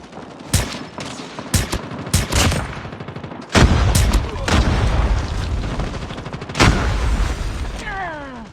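Call of Duty gameplay with loud gunfire and a grenade blast, sharp shot bursts followed by a heavy boom and rumbling aftermath, mixed with game effects.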